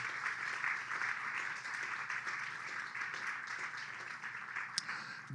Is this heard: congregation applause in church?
yes